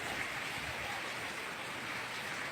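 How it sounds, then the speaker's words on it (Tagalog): Steady rain pours down during a storm, a continuous dense hiss of drops on surfaces, loud and even throughout with no voices. "May bagyo pala, kaya pala na ulan."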